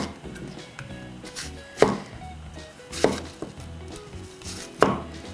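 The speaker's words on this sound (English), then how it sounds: "the way I cut into an apple is to just make 4 cuts around the core" A knife chops down through an apple around its core in three sharp, separate thuds on a cutting board, with quiet handling between the cuts.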